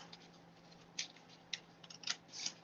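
Scissors snipping through card stock, a few quiet, separate crisp cuts close up against a faint steady hum.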